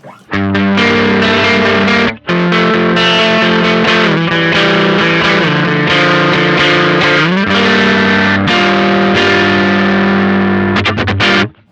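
An electric guitar runs through a Beetronics FX Wannabee pedal with the tone control maxed out, giving loud, driven, buzzy chords and notes played in a continuous riff with a couple of brief breaks.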